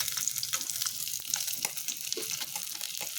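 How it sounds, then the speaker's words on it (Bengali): Bata fish frying in hot oil in a pan: a steady, dense crackling sizzle with scattered pops and spits, close and continuous, with no voices. "এইভাবে আমি সবগুলো মাছ ভেজে নেব।"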